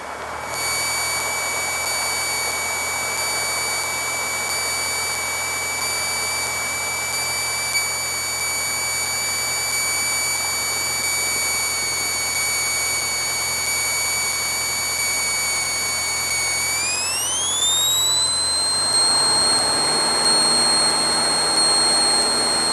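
Cessna 152 at full power for takeoff on runway 31 at Palo Alto on a first solo flight: a loud, steady engine drone with a strong whine that rises sharply in pitch about two thirds through as the aircraft accelerates, no talk.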